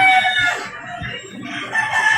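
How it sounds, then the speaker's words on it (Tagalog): A rooster crows loudly and close by, its drawn-out call rising and falling, with clucking chickens around it. "Ang ingay ng manok."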